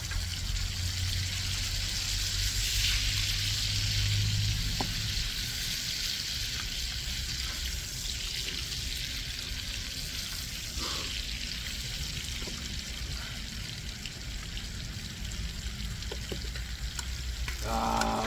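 Pork belly sizzles on a cast-iron pot lid grill outdoors on a hillside, a steady, close frying crackle lasting throughout, with a few clinks and small knocks over it.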